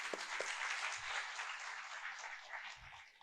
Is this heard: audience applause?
yes